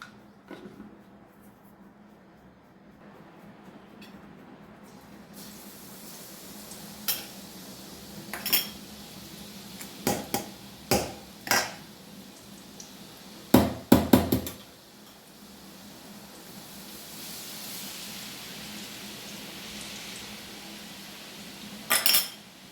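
A spoon mixes lemon pickle ingredients in a bowl over about twenty seconds, with a quiet background broken by sharp clinks and knocks against the bowl that come singly and in small clusters.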